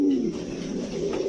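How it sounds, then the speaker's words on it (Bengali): A pigeon at a pigeon farm coos in a low, steady, continuous murmur, close and moderately loud, with no speech over it. "এটা কি কবুতর?"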